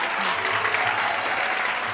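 A studio audience bursts into warm applause to welcome fashion designers onto a talk show set, a brief, even wash of many hands clapping together.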